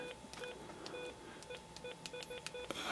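A Motorola Rival phone's keypad gives off a quick run of short electronic beep tones as a text message is typed, fairly quiet and close with no talking.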